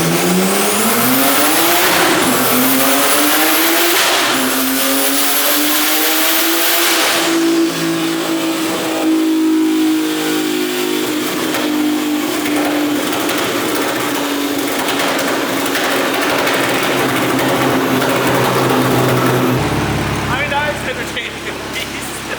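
A turbocharged BMW 135i on a chassis dyno revs hard and loud for a sustained pull, its engine note rising and holding before cutting off abruptly near the end.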